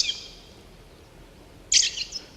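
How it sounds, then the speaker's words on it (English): A red-throated thrush sings in the Mongolian Altai, two short, bright whistled phrases separated by a quiet pause, the second louder and nearer. "we describe for the first time in the handbook the correct song of red-throated thrush, and I can just very briefly let you hear it"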